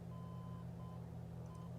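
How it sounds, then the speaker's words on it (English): An aircraft cockpit marker beacon in a Mooney M20R in Microsoft Flight Simulator beeps faintly in short repeated tones over a steady low engine drone. "And you hear the beeping, so you know you're on the beacon."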